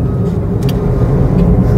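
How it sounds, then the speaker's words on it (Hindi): A 2023 Maruti Suzuki WagonR with a manual gearbox drives along, its engine and road noise forming a steady, close low rumble heard from inside, with no talking. "अभी मैं चला रहा हूँ मैनुअल गाड़ी"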